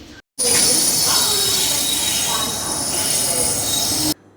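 A train's wheels squeal in a loud, sustained metallic screech on the rails. It starts abruptly after a brief silence, holds steadily for about four seconds and then cuts off.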